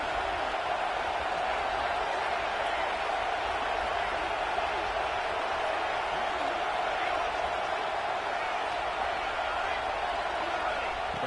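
Dense, steady roar of a large stadium crowd at a football game, loud and continuous throughout with no breaks.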